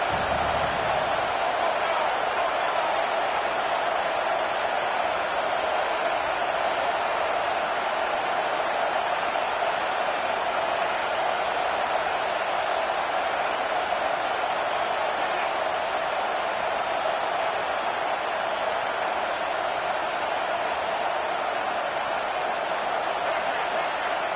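Home stadium crowd noise in a Madden football video game, a steady loud roar of the crowd as the defense tries to get off the field on third down, sustained throughout.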